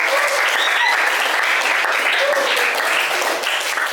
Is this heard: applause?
yes